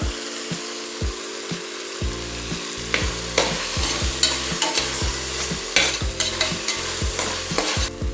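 Tomatoes being sautéed with mint and coriander for chicken biryani, heard as a steady close sizzle of frying with repeated scrapes and stirs of a spoon against the pan.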